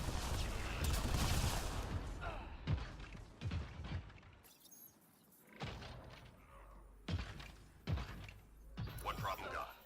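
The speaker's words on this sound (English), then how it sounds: "That's why I shoot flak cannon." Flak cannon fire from the Mass Effect video game on the Sandstorm map, heard as several heavy bursting thuds in separate salvos, loud and near, with game noise and a voice talking between shots.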